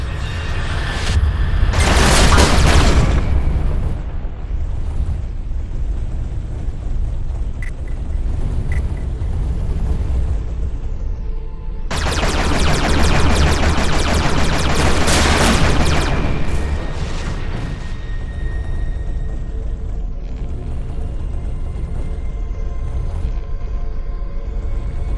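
Spaceship weapons firing at shielded targets in the space shooter Everspace, with pulse laser and Gatling gun fire, come as two long loud bursts of dense booming blasts over a steady low engine rumble, with quieter hum between them.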